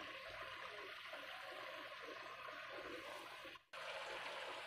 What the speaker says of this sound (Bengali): ঝোলে বলক এসে গেছে